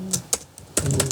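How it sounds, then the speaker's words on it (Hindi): An email address is tapped out on a computer keyboard: a few separate keystrokes, then a quick close burst of clicks. "enter the email address"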